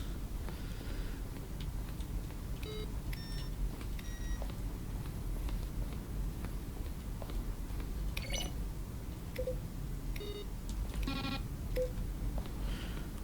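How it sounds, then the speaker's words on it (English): Electronic beeps from The Stanley Parable video game sound in short clusters of high tones over a low, constant background hum. Some are quick double beeps, spread irregularly across the stretch. "I don't think it made that beep beep sound before when we were in the other room."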